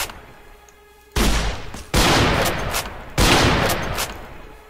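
Video game gunfire: after a quiet start, three loud, close bursts of rapid shots crack out one after another, each holding for about a second before cutting off.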